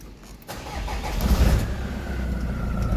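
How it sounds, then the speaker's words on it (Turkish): A car engine cranks and catches, then settles into a steady, close idle rumble. "Arabamızı çalıştırdık."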